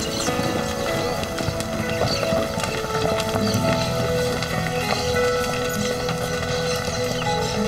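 Busy outdoor scene in the Pantanal as a herd of cowboys' horses arrives, steady clattering of hooves and shuffling animals, a continuous dense rattle, some faint voices in the background.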